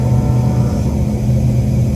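An HVAC furnace blower runs close by as a loud, unbroken whoosh of moving air over a steady low motor drone, with no pauses or change in level.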